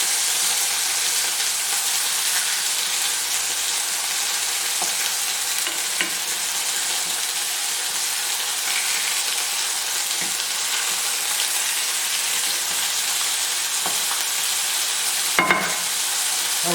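Salisbury steak patties fry in a hot pan with a steady, even sizzle that runs unbroken throughout, with a brief louder crackle near the end and no talking.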